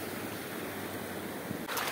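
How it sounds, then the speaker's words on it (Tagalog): Rough sea waves churn in stormy weather around a small fishing boat, a steady moderate wash of surf and wind noise with a brief splash near the end. "Maalon ngayon kasi may pangit yung panahon. Parang may bagyo."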